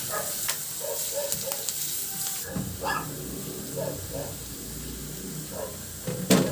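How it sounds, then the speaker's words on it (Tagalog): Garlic sautés in hot oil in a pan, with a soft continuous sizzle broken by stirring clicks and scrapes. "Magpainit na ako ng mantika sa kawali at igisa ko na yung bawang"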